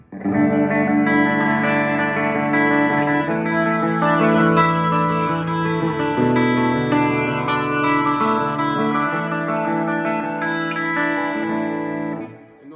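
Electric guitar played with reverb through an EVH 5150 III 50-watt 2x12 EL34 amplifier, sustained chords and ringing notes washing together in a continuous, loud, effect-laden wash for the whole stretch, no voices over it.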